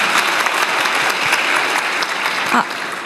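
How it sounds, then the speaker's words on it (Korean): Steady applause from an audience fills the whole moment, dense clapping at an even level without a break. "박수 한번 주세요"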